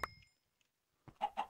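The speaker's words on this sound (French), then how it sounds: "Hop là, salut les poules." Chickens clucking in the Minecraft video game, a short game cluck at the start, then a pause before two louder clucks near the end, close and alone with no talk.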